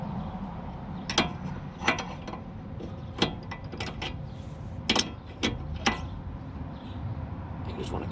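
Adjustable wrench working on a tie rod of a 2007 Nissan 350Z gives sharp metallic clicks and ratchet-like ticks at irregular intervals, close up over a steady background hum.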